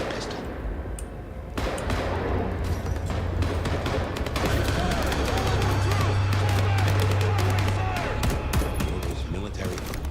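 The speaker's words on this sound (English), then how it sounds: "Gunfire." Rapid gunfire bursts and impacts in Vampire: The Masquerade - Bloodlines 2 on PC, dense and continuous, with voices talking over the shooting.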